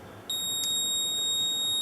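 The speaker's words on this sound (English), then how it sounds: "this little buzzer here is simulating a siren" A RoboGuard alarm's small buzzer sounds as a stand-in for a siren. A loud, piercing tone starts abruptly and holds steady with no voices.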